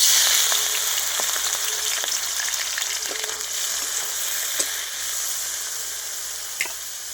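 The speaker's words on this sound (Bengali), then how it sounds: "ওই তেলে এবার আমি চিংড়িটা ভেজে নেব চিংড়ি দিয়ে দিচ্ছি" Shrimp frying in hot oil for a Bengali potol chingri dish, giving a steady dense sizzle throughout with a few soft clicks and pops, fairly close and even in level, with no talk.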